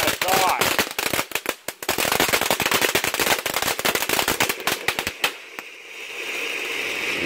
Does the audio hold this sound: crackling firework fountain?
yes